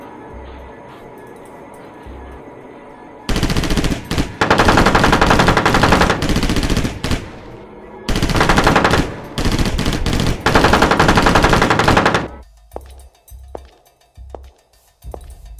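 Soldiers open fire in an audio drama, long sustained bursts of loud, close machine-gun fire rattling for several seconds, breaking off briefly and resuming before fading into quieter sounds.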